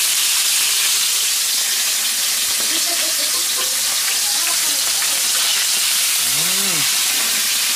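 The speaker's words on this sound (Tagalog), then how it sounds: "Salang na tayo ng kawali para sa ating pritong isda." Fish sizzles in a frying pan over an outdoor fire, with steady loud hissing and crackling throughout and brief voices or animal calls rising faintly over it.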